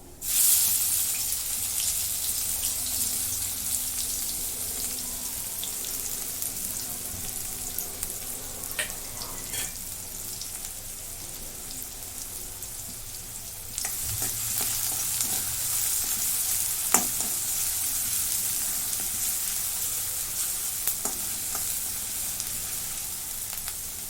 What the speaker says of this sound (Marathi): तर कांदा चांगला लालसर रंगावरती भाजून घेते